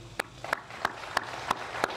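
Rhythmic clapping from a crowd at a developer's pep rally in Freestone County: six sharp, evenly spaced claps in unison, close and clear over a low background hum, with no talking.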